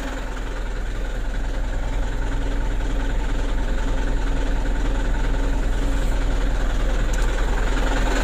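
A car engine with hard sludged oil that starts poorly idles at just over 600 RPM, a loud, steady low rumble with even vibration throughout.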